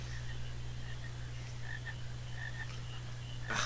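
Frogs in the video game Final Fantasy IX croak in short repeated bursts over a steady low in-game drone, fairly faint, with no talking.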